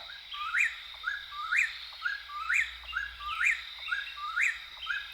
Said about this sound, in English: Whippoorwills have such a distinct call.